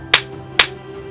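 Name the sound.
hand clap while counting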